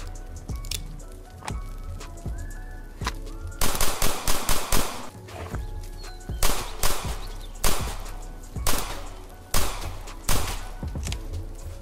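Pistol gunfire in the Roblox game The Wild West, loud repeated sharp shots in uneven bursts and quick clusters, with other game sounds in the background and no talking.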